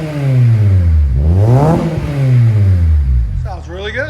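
Revving 2006 Acura TSX with a Vibrant Performance universal muffler and 4-inch tip, rising and falling twice in deep sweeping pulls, loud and close, with a brief voice at the end.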